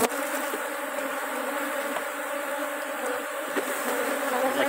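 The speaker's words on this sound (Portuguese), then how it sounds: "Ó, chacoalha a abelha." Honey bees are shaken off a beehive frame during a split into a second hive. A dense, steady buzzing hum swarms close by, with faint clicks of handling and no speech.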